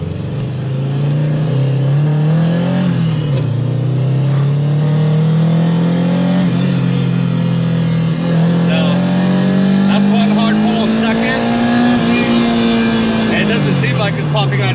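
A Honda Integra GSR fitted with a chassis-mounted shifter accelerates hard, its loud, steady engine drone holding throughout and slowly climbing in pitch before easing off near the end.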